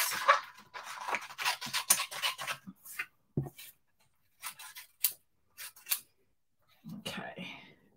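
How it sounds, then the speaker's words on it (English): Scissors snipping paper flower shapes out for handmade thank-you cards, a run of quick close cuts followed by sparser single snips, with soft talk at the start and end. "Let's chop them out. So we will snip those."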